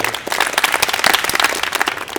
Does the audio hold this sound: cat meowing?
no